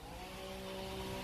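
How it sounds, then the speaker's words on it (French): A motorized hedge trimmer cutting a hedge nearby gives a continuous buzzing engine whine with steady tonal hum, unbroken and fairly loud, with no voices over it. "il coupe la haie. Taille la haie."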